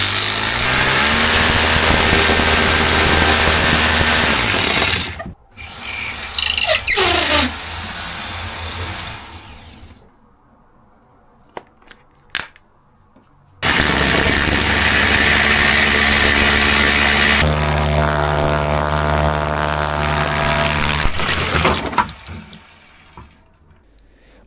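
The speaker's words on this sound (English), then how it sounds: "drill through the brick with a core bit, which is just big enough to run the vac hose through" Core bit drilling through a brick wall to make a hole for a shop vac hose: a loud, steady grinding whine for about five seconds, a few short bursts and near-silence, then another long, sustained run of drilling close by.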